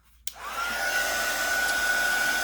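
A hair dryer switches on with a click and then blows a steady, loud whooshing hum with a thin whine, drying watercolor paint on handmade gift tags close by.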